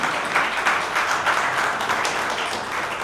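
Audience applause for Javier at a Multiple Sclerosis day panel event, steady broadband clapping from a crowd sustained for about three seconds at even loudness.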